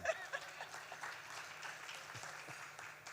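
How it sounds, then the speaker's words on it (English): Faint, distant applause from an audience at a post-budget dialogue patters steadily throughout, soft and even with no voices standing out. "Let's give Professor Sejak a company in clapping for Susan"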